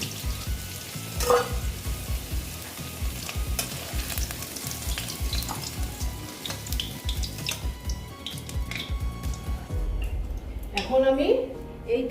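Potatoes fry in hot oil with a busy sizzle and stirring clatter, joined by bursts of running water near the end while a person talks over the cooking.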